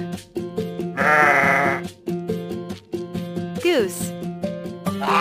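A sheep bleats twice in wavering, quavering cries, the second one sliding sharply downward, set against a cheerful children's song with a steady rhythmic backing.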